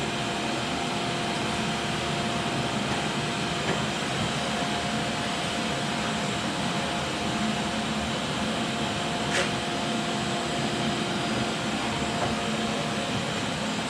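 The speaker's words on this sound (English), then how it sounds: "go ahead and kill the vacuum" A steady, loud broadband whoosh of a vacuum cleaner running continuously throughout, with a constant motor hum and no talking.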